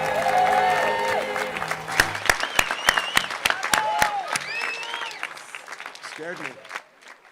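An audience at a 2021 high school graduation ceremony bursts into applause after students sing the national anthem, with sharp scattered claps and crowd noise over lingering voices before the clapping fades.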